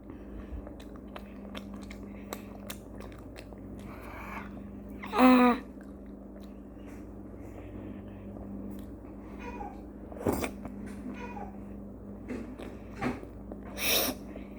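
Soccer-ball-shaped jelly candy with a red jam filling is chewed close to the mic, giving quiet squishy bites and soft smacking bursts spread over a faint background hum.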